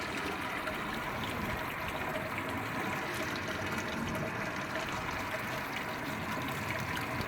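Hot sparge water streams over a bed of grain during all-grain brewing of a corn cream ale, a continuous close rushing, splashing pour with no breaks or talk.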